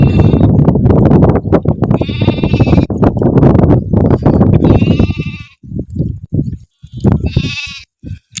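Sheep bleat repeatedly, loud and close, in several wavering calls over a noisy, rumbling flock background, with gaps between the later cries.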